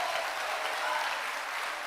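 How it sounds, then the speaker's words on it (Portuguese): Steady audience applause fills a church seminary service on spiritual warfare, dense and continuous clapping throughout with no voices over it. "Uma salva de palmas para ele."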